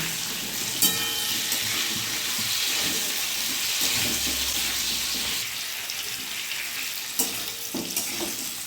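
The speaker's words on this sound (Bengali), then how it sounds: "টমেটো আর কাঁচা লঙ্কা চেরা দিয়ে দেবো। নেড়ে নেবো।" Tomato and split green chili frying in a pan with potatoes for aloo chorchori, a steady bright sizzle throughout, with occasional clinks of a spatula as they are stirred, close by.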